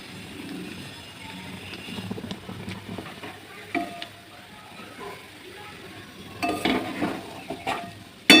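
Homemade ghee sizzles softly in a pan on a gas stove while a spoon stirs it, a faint steady frying crackle with occasional scraping and clinks against the pan.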